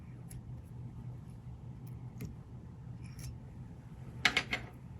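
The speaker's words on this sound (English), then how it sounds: "Trim out my thread" Scissors snip fly-tying thread at the end of tying a Starling soft hackle jig fly, a quick cluster of two or three close, crisp cuts near the end following quiet room tone.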